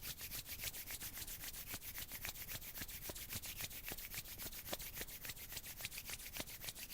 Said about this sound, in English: rub the hands together